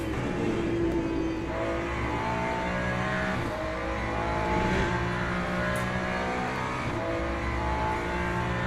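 In the Le Mans Ultimate racing game, a Ferrari race car's engine drones steadily and loudly, its pitch climbing and shifting through gears with a dense, continuous roar and no voices.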